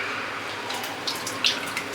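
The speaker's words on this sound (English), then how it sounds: "This strainer, then I can drain the water." Water pours and drains through a kitchen strainer while cooking homemade doi, a continuous close rushing splash with a few brighter spattering accents.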